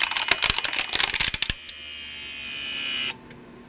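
A Mercedes 300SD door lock vacuum pump clicks and rattles rapidly at first, then settles into a steady rising whir for a couple of seconds before cutting off abruptly, heard close up with no talking.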